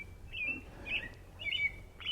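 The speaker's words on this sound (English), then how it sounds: "Birds are chirping." Several short bird chirps ring out by a quiet wilderness lake, coming in spaced bursts over faint background hiss, with no talking.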